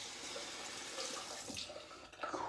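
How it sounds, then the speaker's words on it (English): Water runs and splashes as a bit is added to a shaving brush and a slippery shaving soap between passes, a steady close trickle that grows louder and more broken toward the end. "Just add a bit of water"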